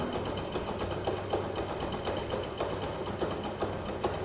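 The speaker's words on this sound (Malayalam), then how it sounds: "ഇത് കണ്ടോ ഇതാണ് വണ്ടിയുടെ ഒരു നോർമൽ സൗണ്ട്" A Hero Honda Splendor motorcycle engine idles smoothly and quietly, a faint, even, fast ticking hum that continues steadily from start to finish.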